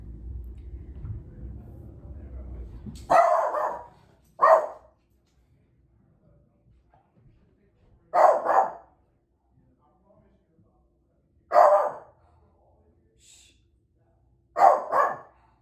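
A dog barks indoors in short bursts of one or two barks separated by long pauses, close and loud, after a brief stretch of background noise.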